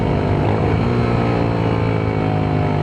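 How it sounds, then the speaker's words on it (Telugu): A Yezdi Scrambler 350 motorcycle engine braking, its steady low drone and exhaust rumble holding loud and close without a break, no voices. "ఇప్పుడు ఇంజన్ బ్రేకింగ్"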